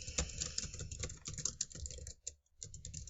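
Close, quick clicking of keys as someone types on a computer keyboard into a search bar, a dense run of keystrokes with a brief pause before the typing resumes.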